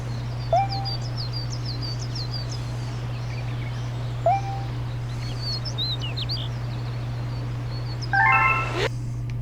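Birdsong in a sunny Super Mario Galaxy 2 game level with no music: a few sparse chirps and whistled calls spaced several seconds apart, ending in a brief burst of rapid trills, over a steady low hum.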